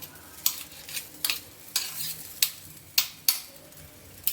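A metal spoon scrapes and stirs spiced pea stuffing for kachori in a pan, giving sharp, evenly spaced strokes over a quiet background.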